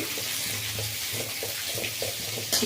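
Mixed vegetables with carrot frying in a pan for egg noodles, a steady close sizzle with faint stirring scrapes, no talk.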